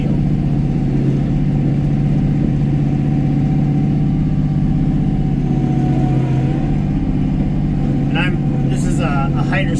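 A hydrostatic tractor engine runs steadily throughout while clearing brush, a loud continuous low rumble, with a few brief clanks near the end.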